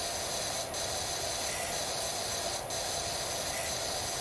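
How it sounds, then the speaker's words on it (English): Steady broadband hiss of a pressure washer spraying in Powerwash Simulator, a continuous even rush with two brief dips where the spray cuts out momentarily. "I feel like right now I've got the Walmart of pressure washers"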